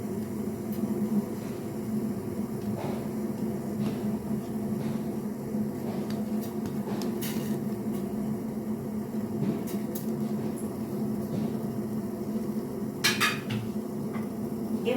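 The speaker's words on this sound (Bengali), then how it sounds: "এই 1 টুকরো হচ্ছে আদা, এটা আমি এখন গ্রেটারে গ্রেট করে নেব" Fresh ginger rubbed across a kitchen grater while making homemade kadha gives a steady, close rasping scrape that runs continuously with small clinks on top and no talking.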